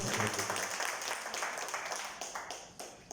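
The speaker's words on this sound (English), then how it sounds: "can we have another round of applause" Audience applause at a talk on young farmers and vegetable export, a dense wash of clapping that starts loud and gradually thins over a few seconds, with a voice briefly audible early on.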